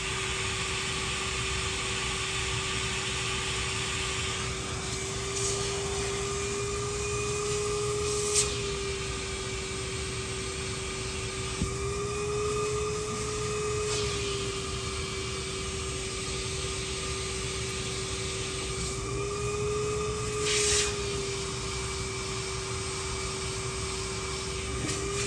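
A small vacuum cleaner runs steadily with a constant whirring hum and hiss, its pitch wavering slightly now and then.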